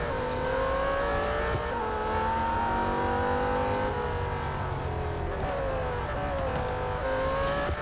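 A Lamborghini Huracan engine drones continuously in the Real Racing 3 video game, a loud sustained roar whose pitch rises through the gears and drops at each shift, with no talk over it.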